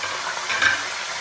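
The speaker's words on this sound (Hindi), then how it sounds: "इसी ऑयल में हमने चिकन ऐड कर देनी है" Sizzle of 800 grams of chicken dropped into hot oil, a steady bright hiss with a brief louder crackle midway, close and alone.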